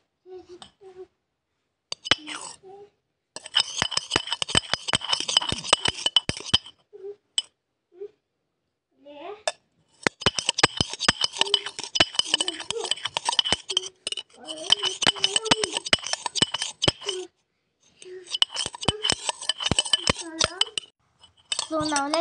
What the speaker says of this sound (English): So now let's mix them properly so the salt and sugar dissolve.